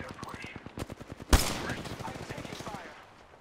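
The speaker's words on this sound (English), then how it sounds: "Shot fired and they're hitting me" Rapid gunfire bursts in the battle video game Apex Legends Arenas, a dense run of close shots with one sharp loud crack partway through, mixed under a player's talk.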